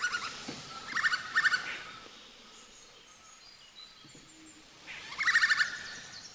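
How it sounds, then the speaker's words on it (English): Great slaty woodpeckers calling loudly at dawn in a Sal forest beside the Kolu River, Uttarakhand; two bursts of harsh, rapid repeated notes, one near the start and another toward the end, with quiet forest ambience between. "This loud call belongs to the great slaty woodpecker."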